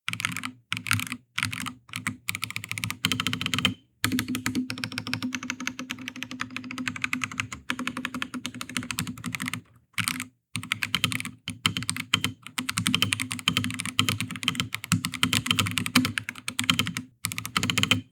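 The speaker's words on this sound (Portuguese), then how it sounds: "eu gostei muito do sonzinho de digitação desse teclado" Rapid clacky keystrokes on an IROK MG63 mechanical keyboard, steady and close, with brief pauses between bursts of typing.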